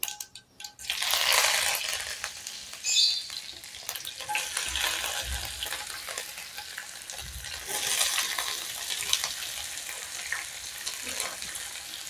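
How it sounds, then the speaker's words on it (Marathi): Onions, tomatoes and green chillies sauté in hot tempering with coriander and curry leaves, giving a bright, close sizzle after the vegetables go in, with intermittent scraping stirs and later flare-ups of hissing. "आपल्याला इथे आता या सर्व भाज्या थोड्याशा परतवून घ्यायच्या आहेत"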